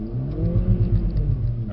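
A Mercedes-AMG CLA45s or A45s accelerates on a race track. A brief, throaty engine pull builds and pulses for under two seconds, heard from inside the car, fairly loud and without speech.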